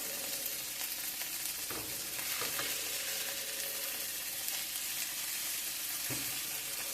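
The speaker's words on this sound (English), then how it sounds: "I'm going to check these and turn them over. See how this is, how they're browning. Got a nice little sear on it." Homemade sirloin beef burgers sear in a hot pan, giving a dense, even, close sizzle that holds steady throughout with a few faint crackles.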